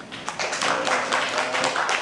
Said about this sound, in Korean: 여러분 박수로 좀 환영해 주시고요.